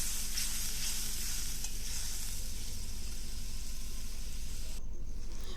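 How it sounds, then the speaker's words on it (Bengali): Soaked dried mango poured with its soaking water into hot oil for a sour-spicy fish curry, a loud continuous hissing sizzle filling the whole stretch without letup. "এবার সেই জলসহ আমশুটাটা আমি তেলের মধ্যে দিয়ে দিচ্ছি"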